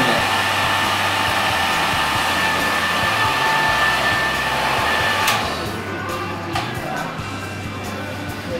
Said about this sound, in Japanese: ある程度乾いてきたら、ちょっと揉み込むように乾かしてあげると、パーマ感が出てくるんで